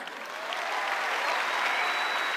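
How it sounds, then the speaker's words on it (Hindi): Audience at a success-day event in Delhi breaks into applause, dense clapping swelling slightly louder and holding steady to the end. "सिर्फ मिडिल क्लास लोगों की ताली बजा रहे हैं"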